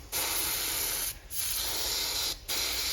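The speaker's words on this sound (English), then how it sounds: "Let's see how it sprays." Gaahleri Kaleido acrylic paint sprayed in a heavier second coat: three steady, loud hissing bursts separated by two brief pauses.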